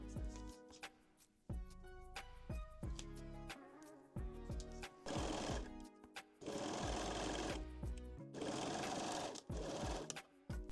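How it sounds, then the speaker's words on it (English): A sewing machine stitches the center front seam of lace underwear pieces, running in several short and longer bursts with brief pauses between them, close and clear with no talking. "pin and sew the center front seam"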